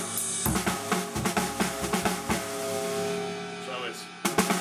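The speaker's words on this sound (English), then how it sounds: "you're alternating the strength with which you hit the snare drum." Snare drum rudiment with alternating strong and soft strokes in a right, left, right, right sticking, played as a dense, busy pattern with overlapping ringing tones and a few sharper accented hits.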